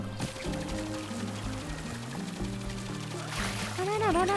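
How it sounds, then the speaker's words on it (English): Watering sound effect from the video game Super Mario Odyssey: a gushing, pouring water spray layered over busy game music, growing louder near the end. "That's my watering sound."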